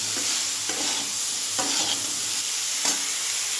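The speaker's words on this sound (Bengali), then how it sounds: "এরপরে ঝিঙেটা দিয়ে দিলাম। একটু ভাজা ভাজা হোক" Ridge gourd and green chili fry in a pan, with a steady hiss of sizzling and three or four scraping stirs spaced about a second apart, heard up close with no talking.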